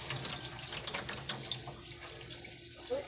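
Tap water runs steadily into a kitchen sink as ingredients for adobong takway, taro runners cooked adobo-style, are drained, a continuous close splashing hiss with no talk.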